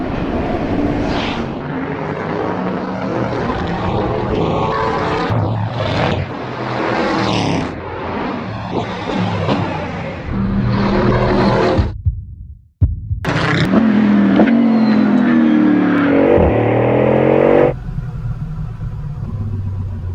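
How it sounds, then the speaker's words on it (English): A Bugatti Bolide hypercar accelerates hard on a racetrack, its engine screaming through rising revs with sharp gear shifts, a brief near-silent gap, then more loud, close high-pitched acceleration. "This car accelerates like nothing else I've ever experienced"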